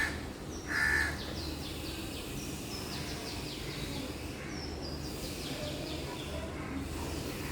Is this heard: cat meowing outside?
no